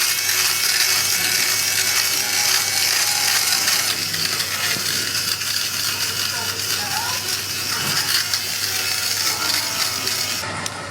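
A fabric lint remover runs against a pillow, sucking pills off the fabric with a steady whirring, buzzing motor hum that continues loud and close throughout.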